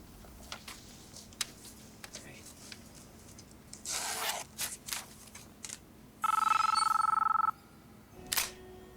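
A telephone in The Matrix rings in a loud electronic burst, heard amid quieter rustling, clicks and scattered voices from the film's scene.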